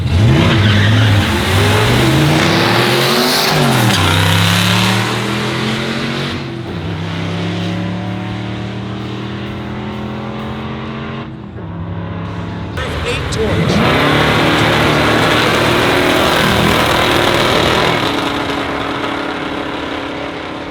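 The engine of a 1989 Ford Crown Victoria GT race car roars loudly at a drag-racing event. It revs up and down in sweeping pitch rises, then holds a heavy idle before another sustained surge, all very close.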